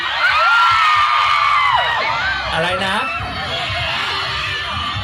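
A large crowd shouting and cheering at the 2022 Pha That Luang temple festival in Vientiane, a dense, loud roar of voices with whoops, while someone speaks over it through an amplified sound system.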